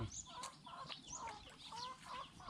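A bantam chicken clucks in a quick series of short, nasal calls, close and fairly loud over faint outdoor background noise, with no voices present.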